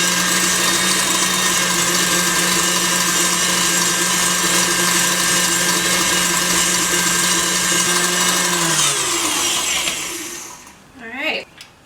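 An electric mixer whips egg whites with sugar toward firm peaks for an angel food cake, running as a loud, steady motor whine for about ten seconds before cutting off, followed by a brief knock.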